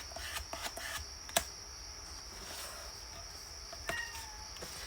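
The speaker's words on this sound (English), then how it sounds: "there's a kitty. I heard her." A few faint, short cat meows come through against a steady background hiss and a high electronic whine, with scattered light rubbing and tapping sounds.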